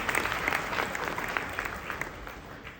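A brief, continuous burst of audience applause at an award ceremony, many hands clapping evenly and fairly close, with no talk over it.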